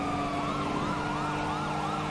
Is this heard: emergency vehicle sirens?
yes